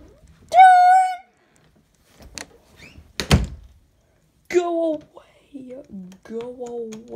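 A door in the video game Five Nights at Plushy Island shuts with a single sharp thunk in the middle, amid a sparse game tone and a voice talking before and after.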